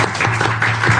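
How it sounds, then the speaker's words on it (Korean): A church congregation, including soldiers at a military service, claps in thanks for the worship team, a short burst of loud, steady applause. "우리 오직 예수교회 찬양팀 여러분들께 우리 감사와 사랑의 박수 좀 부탁드리겠습니다"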